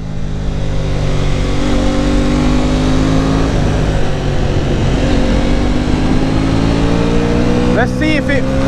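An Aprilia Tuono 660 Factory motorcycle engine revs hard and loud up close, a sustained throaty roar rising in pitch as the bike accelerates, with wind buffeting throughout.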